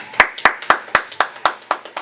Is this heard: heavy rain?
no